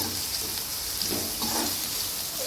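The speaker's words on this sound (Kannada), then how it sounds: "ಸ್ವಲ್ಪ ರೋಸ್ಟ್ ಆಗಬೇಕು, ಕೆಂಪಗಾಗಲಿ ಈರುಳ್ಳಿ ರೋಸ್ಟ್ ಎಣ್ಣೆಯಲ್ಲಿ" Onions roasting in hot oil in a pan: a dense, close sizzle with faint scraping as they are stirred, steady through a short stretch.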